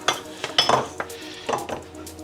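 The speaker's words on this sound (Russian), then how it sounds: "Сейчас я перенесу посудину." Clattering of a pot or pan of sausages in sour cream sauce being shifted on a stovetop, several sharp metallic knocks and scrapes over a faint sizzle.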